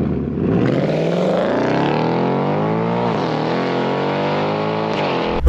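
A seventh-generation Ford Mustang with a naturally aspirated V8 is heard as one steady, loud engine note, its pitch rising gradually as it revs smoothly, with no talking.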